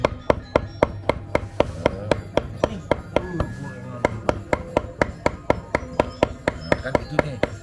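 Rapid, steady chopping of meat on a wooden board, sharp thuds repeating about four times a second, close and loud, with faint talk underneath.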